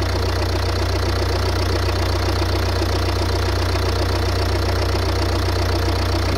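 A loud Ford Mondeo Mk4 1.8 TDCi diesel engine idles steadily close by, with a constant low rumble and rhythmic knocking clatter throughout and no voices.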